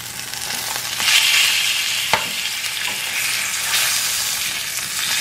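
Salmon fries in a pan with a loud, continuous sizzle and some crackle, plus a brief clink or scrape as it is turned, with no talking.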